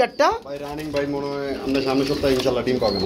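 Domestic pigeons coo in a pen holding many breeding pairs, a soft repeated cooing heard close by beneath someone talking throughout.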